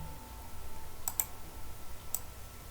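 Three sparse, crisp keystrokes sound on a computer keyboard while a QB64 graphics command is typed, two close together and one a second later, faint against a quiet room hum with no voice.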